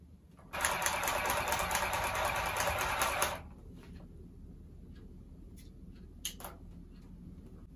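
Sewing machine stitching a cloth face mask, a fast, steady mechanical whir running for about three seconds and then stopping, followed by a few faint clicks and taps.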